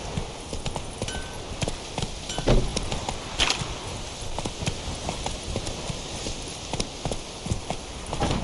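Horse hooves galloping in The Witcher 3: Wild Hunt, a steady rapid clip-clop that carries on throughout at close range over a constant background wash, with no talking.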